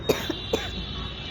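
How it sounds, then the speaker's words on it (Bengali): A person gives two or three short, muffled coughs close by, spaced about a fraction of a second apart, over a quiet background hum. "আমার এমন কাশি ধরতেছে"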